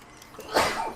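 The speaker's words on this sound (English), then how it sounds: "cute sneeze is cute also" A single small, soft sneeze, quick and close, with a short breathy burst and a faint tail after it.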